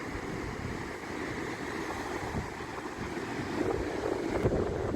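Water at a rocky shore as the tide goes out on a morning: a steady, soft wash of gentle surf with wind rumbling across the microphone, continuous and fairly faint, with no voices.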